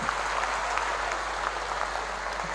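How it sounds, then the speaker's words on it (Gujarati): An audience at a family reunion gathering claps together in a brief, steady burst of applause, dense and even throughout with no voices over it. "ફરી એકવાર જોરદાર તાળીઓ આપના માટે."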